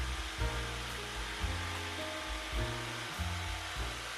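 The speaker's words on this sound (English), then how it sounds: "just finishing it off with the jigsaw, all the square corners" Jigsaw cutting square corners on a wooden bird house: a continuous buzzing motor with a steady reciprocating blade, its pitch shifting in stepped bursts as the cut bites and eases, close and loud throughout.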